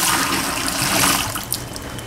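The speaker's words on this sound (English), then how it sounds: "I empty my sink out" Water rushes loudly out of a kitchen sink as it drains, a continuous gurgling flow close up that tapers slightly at the end.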